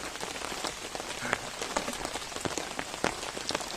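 Steady rain falls outdoors in a rural Thai or Lao village during a morning meal of pounded long beans and grilled field catfish, a dense continuous patter with scattered sharper drops landing on nearby surfaces.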